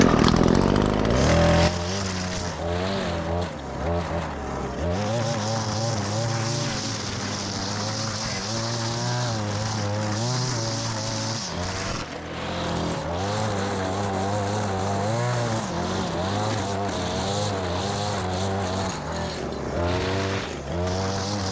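Lawn crew trimming a property perimeter with a string trimmer during a biweekly tall-grass mowing job, giving a steady, loud buzzing drone that runs the whole time with slight pitch wobbles and no talk.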